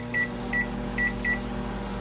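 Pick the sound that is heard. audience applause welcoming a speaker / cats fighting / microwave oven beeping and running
microwave oven beeping and running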